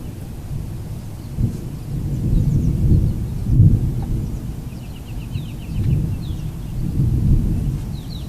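Morning thunder rumbles on and off in long, swelling low waves against light wind and faint birdsong, loud and sustained with no one speaking.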